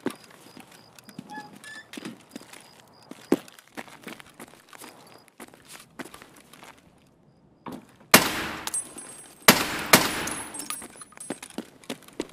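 Gunfire in the video game Escape From Tarkov: scattered sharp shots and clicks give way to two loud, dense bursts of automatic fire near the end, close and harsh.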